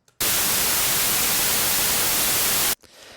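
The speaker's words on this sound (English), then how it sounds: "So I think the more obvious answer is white noise." A steady burst of broadband white noise hisses loudly for a couple of seconds, then cuts off abruptly, leaving a faint softer hiss.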